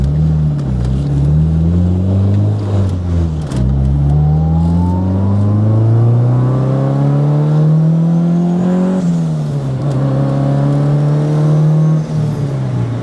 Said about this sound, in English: You can hear VTEC kick in and then the turbo.